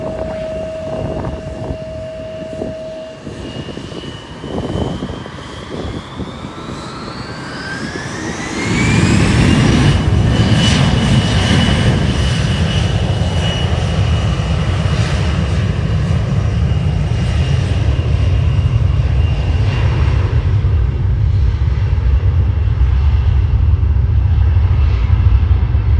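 An Air Canada airliner takes off at Ottawa International Airport. Quiet engine spool-up and a rising whine build into a loud, sustained jet roar that holds steady as the plane powers down the runway.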